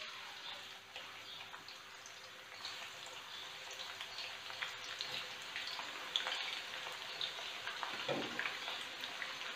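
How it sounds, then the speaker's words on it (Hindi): Onions frying in hot oil in a pan while koftay are being made, a steady close hiss and fine crackle running throughout. "पहले तेल हमारा गर्म हो चुका है, इसमें भी हम प्याज डालेंगे फ्राई होने के लिए।"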